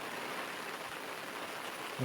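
Heavy rain pouring steadily in the Konkan countryside, a dense, continuous hiss close by with no voices.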